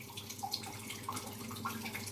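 Water runs steadily into a cooking pot, about two litres for biryani rice, a soft continuous splashing with a few small drips and plinks, fairly close, with no talking.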